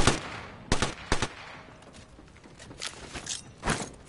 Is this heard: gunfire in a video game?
yes